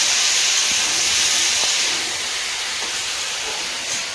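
Large potatoes hiss and sizzle in hot oil with five-spice (panch phoron), a broad steady frying spray that eases slightly partway through, close by with no talk.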